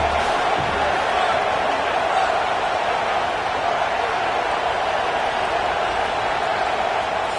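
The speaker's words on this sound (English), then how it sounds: "how nice is it to have the home crowd going absolutely bananas" Home football crowd roaring in a stadium, a dense, loud, steady wall of cheering that runs unbroken throughout.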